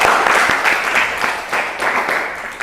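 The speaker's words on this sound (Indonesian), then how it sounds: "beri tepuk tangan untuk kelompok 1" Loud, dense applause fills a classroom after group 1's presentation in an electrical power teacher-training course, sustained without pause for the whole short stretch.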